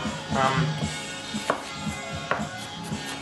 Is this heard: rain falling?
no